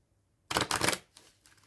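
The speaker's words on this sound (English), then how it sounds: "I'm gonna shuffle." Tarot cards are shuffled by hand, a quick burst of crisp riffling flutters close up, followed by a few softer scattered card slides and taps.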